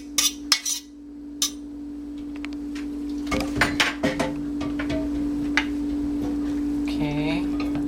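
Cooked ingredients scraped and spooned into a pot of cream of broccoli soup, with sharp utensil clinks and clatter against cookware over a steady hum, ending in softer stirring and brief bubbling.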